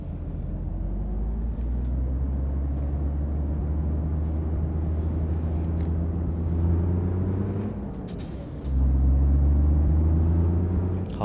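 A truck in a Turkish truck-driving game runs with a heavy, steady low engine drone; near the end a sharp air-brake hiss cuts in, then the engine returns louder and rougher.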